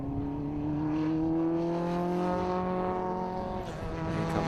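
An ex-Fiesta Junior race car passing at Snetterton circuit, its engine note holding a steady high drone and then dropping in pitch as it goes by, fairly close and alone.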